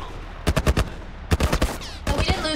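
Gunfire from The Last of Us Remastered video game: three loud clusters of rapid, close shots crack out in quick bursts, separated by brief pauses.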